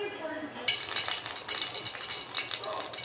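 Mustard and fenugreek seeds dropped into hot sesame oil for a white garlic kuzhambu burst into a sudden loud sizzle, crackling and spattering close up with a dense continuous hiss after a quieter start.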